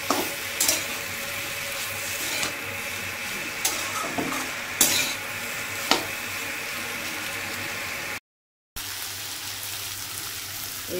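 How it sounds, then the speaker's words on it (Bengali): Papaya curry with mung dal being stir-fried in a pan, a steady sizzle broken by scattered spoon scrapes and knocks, close-up with no voices, one brief dropout near the end. "ভালো মতন কষাতে হবে, তরকারি কিন্তু কষানোর উপরেই স্বাদ উঠে।"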